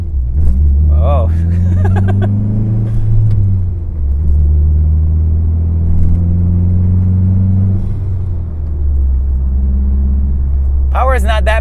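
A turbocharged Dodge SRT-4 cruises around town below boost, its engine a steady low drone that rises and falls through gear changes, heard from inside the cabin with brief voice sounds at the start and end.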